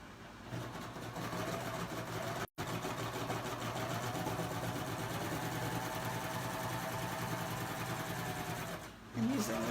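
A Babylock serger sewing machine fitted with a curve foot runs at a steady fast hum and rattle for several seconds, briefly pausing once before continuing, close and alone.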